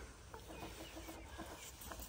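A hen being held for treatment clucks softly and repeatedly in a quiet setting, the low, faint calls close to the listener.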